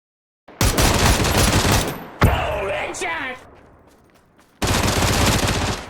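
Gunfire in PUBG during a replay, loud bursts of rapid shots with a sharp single crack and a fading echo between them, then another dense burst, with talking underneath.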